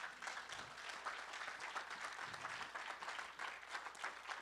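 A church congregation applauds together, steady dense clapping filling the room for several seconds without a break, with no talking over it.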